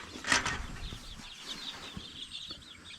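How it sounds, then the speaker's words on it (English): Young turkeys in a brooder house give soft chirps and clucks with a brief flutter of wings near the start, faint and close in a quiet room. "Turkeys are in the brooder house."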